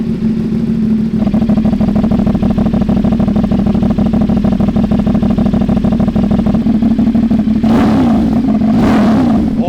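A CFMOTO 450SS motorcycle fitted with a budget slip-on exhaust idles loudly up close with a rapid, throbbing pulse, then revs sharply twice toward the end.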